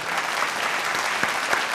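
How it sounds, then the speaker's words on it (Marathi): A burst of clapping from a TV studio audience, steady and fairly loud throughout, with a few sharper claps standing out. "एकदा जोरदार टाळ्या त्यांच्यासाठी"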